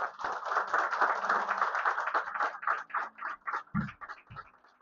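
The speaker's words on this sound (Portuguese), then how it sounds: "Nós podemos aplaudir a Jesus." A church congregation claps, a fairly faint patter of hands that starts dense and thins into scattered separate claps, with a couple of louder low thumps near the end.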